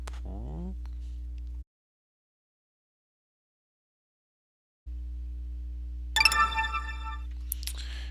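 A short electronic chime from After Effects signalling a finished render rings out clearly after a low steady hum and a brief silence, followed by a faint second tone.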